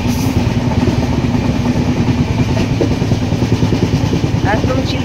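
Train running along the shore of Chilka Lake, heard from on board as a loud, steady rumble with rhythmic wheel clatter that continues unbroken.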